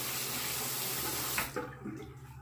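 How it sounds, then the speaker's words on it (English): A Fatip Piccolo safety razor is rinsed under a steadily running faucet, close and fairly loud, before the water cuts off and a few small clinks and handling noises follow. "I'm going to go ahead and rinse the razor"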